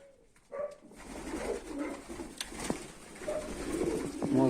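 Pigeons in a loft coo in soft repeated low calls, fairly close but quiet, with rustling and small knocks around them and no talking.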